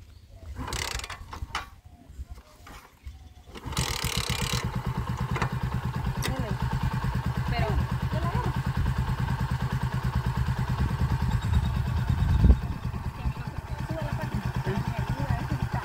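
A motorcycle engine idles with a steady rapid chug and mechanical clatter, continuous after a short pause, with a brief louder rev near the end.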